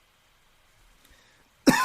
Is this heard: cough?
yes